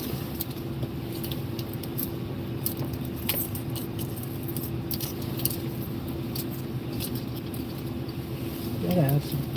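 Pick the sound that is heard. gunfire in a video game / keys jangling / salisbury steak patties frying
keys jangling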